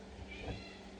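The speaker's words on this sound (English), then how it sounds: "That is my cat Oliver in the background making noise." A single short cat meow in the background, faint and brief, over a steady low hum.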